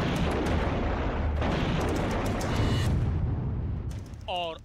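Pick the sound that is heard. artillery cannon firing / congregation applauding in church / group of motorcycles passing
artillery cannon firing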